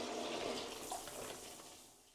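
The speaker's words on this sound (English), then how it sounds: "As you can see, the water's filling up to the line." Tap water running into a sink being filled to hand-wash clothes, a steady close rushing splash that slowly softens toward the end, with no talk.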